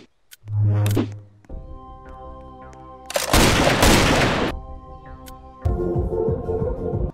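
Sniper rifle fire in the video game Island Predator: a heavy booming shot with a ringing tail, then a long roaring blast and another burst of noisy impact, loud and close amid game effects.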